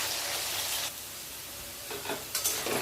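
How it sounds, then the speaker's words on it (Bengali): Potatoes fry in hot oil in a wok, giving a soft, close sizzle with a couple of short stirring scrapes toward the end. "প্রথমে কড়াইতে তেল গরম করে আলুটা ভেজে নেব"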